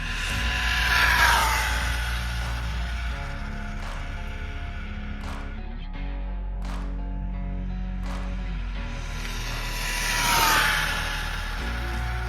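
A GTFans M610 RC car with a 120A ESC, 5400kv motor and 14t pinion runs at full throttle, a thin high motor whine that swells as it passes near around the start and again near the end, with fainter whirring in between.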